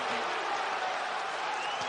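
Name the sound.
applause at a basketball game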